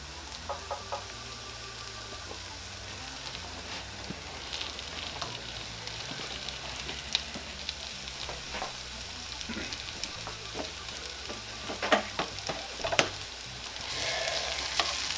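Alligator pork sausage and onions sizzle and crackle in a hot pan, a steady frying hiss broken by scraping stirs and sharp pops, with a louder burst of sizzling near the end.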